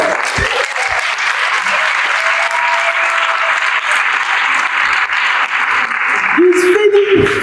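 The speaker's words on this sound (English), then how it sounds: "Can we give him a hand of applause?" Audience applause at a human rights public lecture at Vaal University of Technology, honouring a guest speaker: steady, dense clapping from a large crowd throughout, with a few voices and a brief tonal sound near the end.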